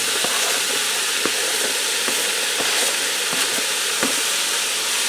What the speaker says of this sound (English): So I'm going to get my ground beef in there.